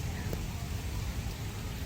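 Rain pours steadily at a Buddhist temple, Wat Banteay Dei in Cambodia, during preparations for Visak Bochea, a thick, uniform hiss with a faint low rumble beneath.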